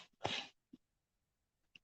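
A single sharp sneeze bursts out close by, followed by a quiet sniff and a faint breathy click, with silence in between.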